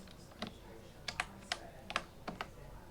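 Several crisp key presses on a computer keyboard in short, uneven bursts, close and fairly quiet, with no one speaking.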